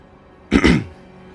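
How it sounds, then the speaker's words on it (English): A single short, rough throat clearing, close and fairly loud, lasting about half a second against quiet background. "Sorry, I had to clear my throat there."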